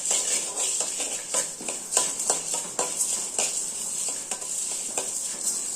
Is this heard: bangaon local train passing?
no